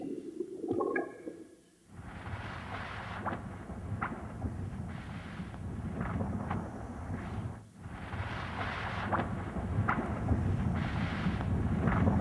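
Russian meteor explosion picked up from a great distance: a continuous, dense rumbling roar with repeated dull bursting pulses, fairly loud after a brief opening, with no speech.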